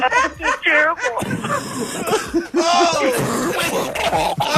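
A person on a prank call coughs and gags harshly in repeated bursts, throaty hacking mixed with retching sounds over a phone-like line, with voices and laughter around it.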